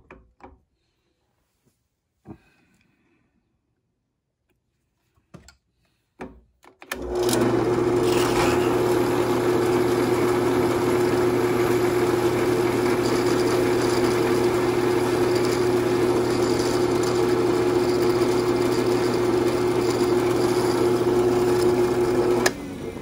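Drill press boring through clamped keystock with a number 25 bit, a steady continuous whirring drone running loud and alone for most of the stretch after a few quiet clicks and handling knocks at the start.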